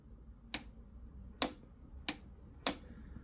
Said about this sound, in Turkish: Bakın çevirdiğimiz zaman tık diye bir ses gelecek.